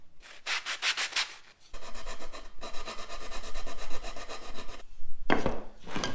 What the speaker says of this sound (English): Next step is to clean up all the inside edges with a sanding block.